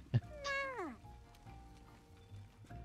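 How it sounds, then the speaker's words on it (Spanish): A cat gives one short meow that slides downward in pitch, fairly faint, followed by soft scattered clicks and quiet background noise. "me maullas, pero no me das de comer."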